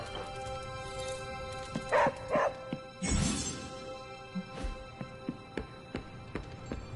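Dog in the video game Marvel's Midnight Suns gives a few soft barks and yips amid low game ambience, with short scattered sounds around them and no voices.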